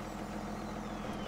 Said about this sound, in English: There's our animal tractor that's using the 7430, which is actually, I think, is a 7530.